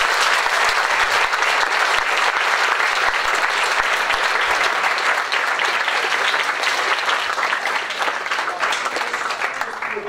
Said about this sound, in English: can we give a big round of applause to Dee Dutta?